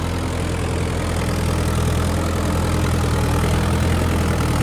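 A Mahindra Yuvo 575 DI tractor engine idles steadily at close range, a continuous low diesel drone with an even, knocking pulse and no gaps from start to finish.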